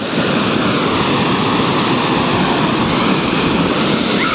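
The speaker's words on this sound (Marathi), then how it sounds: "खरोखर खूप सुंदर आणि जबरदस्त असं आपल्याला पाहायला मिळतोय तो हा वेरवलीचा धबधबा" The Vervali waterfall pours down in a loud, unbroken rushing roar of flowing water that fills the whole scene from start to finish.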